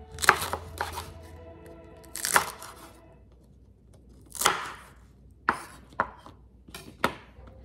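Onions and chili peppers are chopped with a knife for Korean pickles, giving a handful of sharp separate cuts and crunches spaced irregularly with quiet gaps between, close and alone.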